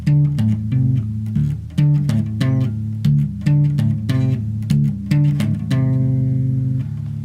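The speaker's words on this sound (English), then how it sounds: "and then sped up it will sound like this." A quick electric guitar riff of rapid plucked and legato notes in a tight repeating pattern, ending on a sustained ringing chord.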